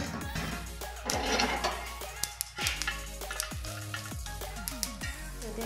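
Hot oil tempering with curry leaves for vegetable dhokla, a continuous close sizzle and crackle with scattered taps of a utensil against the pan.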